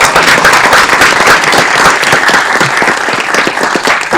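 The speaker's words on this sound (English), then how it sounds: "let's give him a round of applause" A room of people at a city council meeting claps for an appointee, dense loud applause sustained across the whole stretch and fading slightly near the end.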